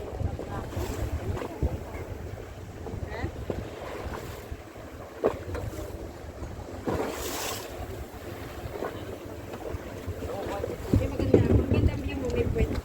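A tour boat cruises among small islands, its motor a low steady rumble under strong wind buffeting the microphone and splashing waves, with people talking intermittently over it.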